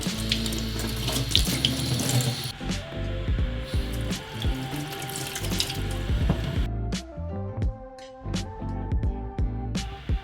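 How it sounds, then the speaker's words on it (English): Running tap water pours steadily into a kitchen sink while capsicums are rinsed underneath, with continuous splashing and shifting flow, close and clear. "And now we're gonna just rinse everything off."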